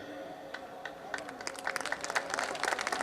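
Audience applause at a Hindi poetry recital (kavi sammelan), scattered claps at first that swell into fuller, denser clapping from a seated crowd toward the end.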